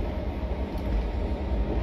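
The 03102 Puri–Sealdah special passenger train rumbles along steadily, a continuous low, heavy rolling noise heard from on board with no break.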